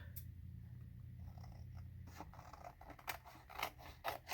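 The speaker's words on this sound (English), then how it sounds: "we're just going to go ahead and cut away this background" Scissors snip through a paper background while making a decorated card: a low steady hum at first, then a run of close, crisp cutting snips in an uneven rhythm.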